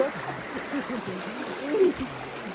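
Sea water rushes and gurgles around people wading at a beach, a close, uneven wash with voices and laughter over it.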